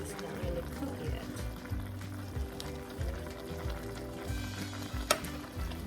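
Chicken adobo simmering and reducing in a pan, a steady close bubbling sizzle that runs the whole time, with a brief clink near the end.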